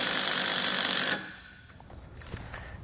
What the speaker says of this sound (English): I'm going to take these self-tapping screws in our kit. I'm going to attach our bracket here to the base plate.